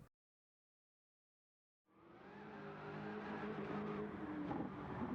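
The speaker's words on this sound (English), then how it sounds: "The Dodge Viper GTS 13 with the engine swap is an absolute animal on track." An engine-swapped 2013 Dodge Viper GTS in Gran Turismo 7 starts after a brief silence, then revs up and accelerates hard on the Nürburgring, its loud, steady engine roar building and staying close throughout.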